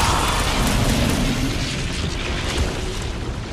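Cannon fire in the video game Marvel's Guardians of the Galaxy during a combat scene: a dense, continuous roar of booming blasts and explosive bursts with a steady rumbling low end, loud throughout.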